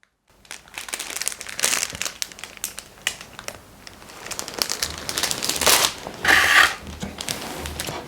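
Plastic packaging around a Benson & Clegg Shantung silk tie crinkles and crackles in repeated bursts, close and fairly loud, with sharper crunches toward the end and no talk.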